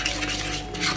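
A henna mixture being stirred in a pot as boiling water is added, giving a steady, close scraping and swishing with no talk over it.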